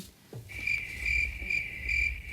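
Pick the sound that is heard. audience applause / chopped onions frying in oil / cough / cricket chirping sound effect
cricket chirping sound effect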